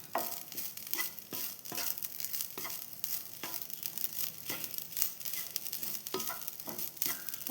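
A jaggery, coconut and sesame mixture sizzles as it heats in a pan, giving a steady, close crackle broken by repeated scraping stir strokes. No one speaks.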